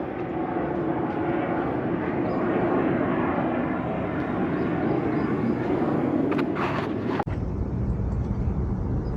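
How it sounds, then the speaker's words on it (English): A steady broad roar of aircraft engines passes overhead, loud and continuous, with a brief sharp click near the end. "Planes flying overhead."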